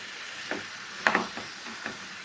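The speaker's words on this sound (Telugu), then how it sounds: "ఇప్పుడు దీన్ని ఫ్రై చేసుకోవాలి." Fried onion chicken cooks in a pan with very little oil, giving a soft, steady sizzle broken by a few sharp clacks from stirring.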